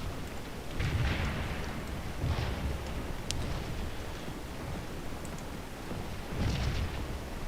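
Artillery guns fire in the Scourge of War battle game, a few deep, rumbling booms at a distance rolling out every second or two over steady background noise.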